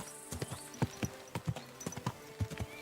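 Hooves of a horse clip-clop at a steady walking pace in Kingdom Come: Deliverance 2, a string of crisp, close footfalls in an even rhythm with no talk over them.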